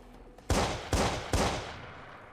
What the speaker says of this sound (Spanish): Y los disparos eso sobraban, ¿no?